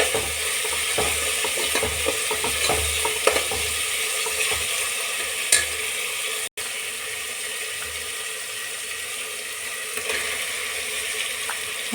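Tomato pieces fry with spices in a pan for chicken curry, giving a loud, steady hiss with small crackles and occasional stirring knocks; a brief dropout interrupts midway, and nobody speaks.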